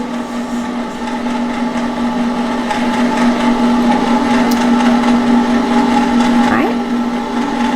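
An ice cream maker churns chocolate peanut butter ice cream with a steady, loud mechanical whir and low motor hum throughout, and a voice briefly speaks over it near the start.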